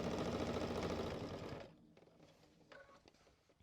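A sewing machine stitches a quilted backpack in a fast, loud, even whirring run for about a second and a half, then stops, leaving faint handling clicks.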